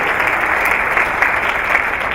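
Audience applause at a school district's State of the District address, a steady dense wash of clapping from a large crowd, loud and even for the whole stretch with no voices over it.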